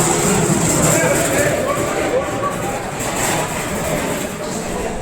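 The Tirunelveli–Dadar Chalukya Express stands at platform 1 of an Indian railway station, giving off a steady, loud rumble of engine and carriages with a busy, crowded wash of noise around it.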